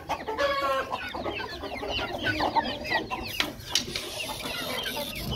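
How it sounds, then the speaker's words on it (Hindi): A crowd of desi chickens clucking and squawking loudly and continuously, with agitated flapping and scuffling as they fight nearby. "ये देसी मुर्गियों ने आते ही हल्ला बोल दिया है"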